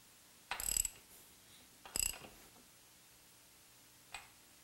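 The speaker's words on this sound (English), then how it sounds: "install it into the rear sprocket, and rotate the rear tire backwards until tight" A motorcycle rear wheel turned backwards with a screwdriver jammed in the rear sprocket gives two short ratcheting, clicking mechanical bursts, close and distinct, followed later by a single faint tick.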